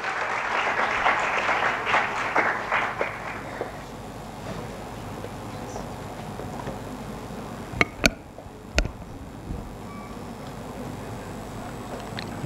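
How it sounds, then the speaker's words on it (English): Audience applause at a scientific conference on meditation and stress coping: a dense burst of clapping for about three and a half seconds, then a fade into quiet room noise broken by a few sharp clicks. "Please welcome Akash Saini on the stage with a big round of applause."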